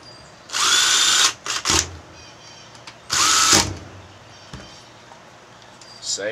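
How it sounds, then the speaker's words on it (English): Power drill driving screws into a homemade temperature-controlled incubator box, two loud, sustained whirring bursts with brief shorter revs between, close to the microphone, then quieter clicks and handling. "now you just want to put your screws in here and tighten them down"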